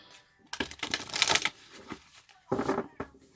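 Quick riffling bursts of oracle cards being shuffled, two main flurries separated by a brief pause, close and crisp.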